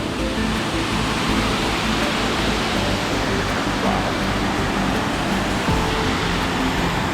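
A Bali waterfall heard from the top makes a constant, dense roaring rush of falling water that stays steady and loud throughout, with no voices.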